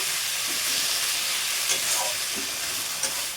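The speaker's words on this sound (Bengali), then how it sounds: "তখন চিংড়ি মাছগুলো দিয়ে দিয়েছি দিয়ে এই যে এর মধ্যে এরকমভাবে নেড়ে চেড়ে নিচ্ছি" Prawns frying with ginger in a pan, a continuous loud sizzle with occasional scraping stirs and light clinks of the spatula, no voices.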